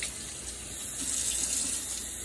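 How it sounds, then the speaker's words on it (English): Tap water runs steadily from a faucet onto a wet microfiber mop pad held under it, a continuous splashing hiss that rises slightly in the second half, close and alone with no talking. "I just run some water over it."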